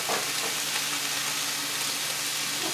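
Turkey fajita vegetables sauté in a hot pan, a steady close sizzle and crackle running unbroken throughout with no talking.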